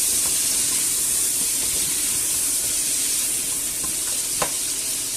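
Pork ribs, garlic and carrot browning in a pan, sizzling steadily with a constant hiss and occasional faint scrapes from stirring, no talk.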